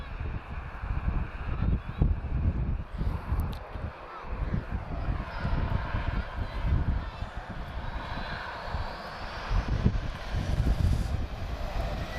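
An Azores Airlines airplane at Lisbon Airport gives a loud, sustained jet engine roar with a rising whine as it moves, heard from outdoors at moderate distance over a continuous rumble.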